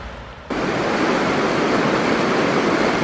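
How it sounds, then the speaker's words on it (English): River water pouring over a small stone weir built for canoes, a broad, constant rushing roar that switches on abruptly after a quieter half-second and then holds steady and close, with no voices. "This must be another little weir area they built for the canoes there."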